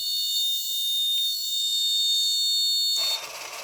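High, steady electronic alarm buzzer from a vehicle accident detection system built on an Arduino Uno board, sounding continuously and loud for about three seconds before cutting off into quiet room noise.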